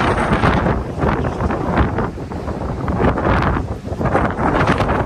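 Strong wind buffets the microphone with loud, continuous roaring gusts and rumbling low-end blasts, filling the whole stretch without pause.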